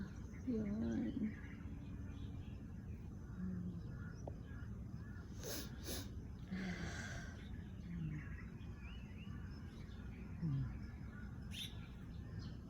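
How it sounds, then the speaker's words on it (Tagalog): Birds call from outside a mountain hotel room, with a few scattered chirps and short cries against a steady background hush. Soft voices murmur now and then. "Mga sigaw ng ibon."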